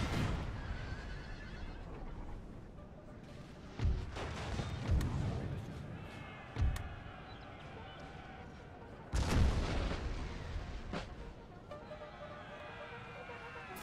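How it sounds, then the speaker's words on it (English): Canister fire from artillery in the Napoleon: Total War video game, with sharp booming bursts at intervals over a constant din of battle, horses whinnying and galloping. "Let's get a bit of canister fire going on here."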